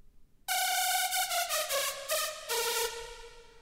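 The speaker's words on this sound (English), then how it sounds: "We only have one heavily detuned saw wave here" A heavily detuned saw wave synth lead with pitch LFO, built as a layer of a hardstyle lead, plays loud and alone after a short silence, holding bright sustained notes that shift pitch a few times before slowly fading.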